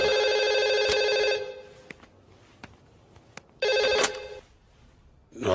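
A telephone rings with two bursts of a bright electronic trill, loud and close. Between the rings there are a few soft clicks and a quiet pause, with no one talking.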